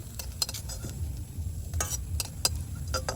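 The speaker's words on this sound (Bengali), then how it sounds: "আমি এইভাবে এখন সবগুলো ভেজে নেব" Loitta fish langcha frying in a pan, a soft continuous sizzle broken by repeated metallic clinks and scrapes of a utensil stirring and turning the pieces, close by and without speech.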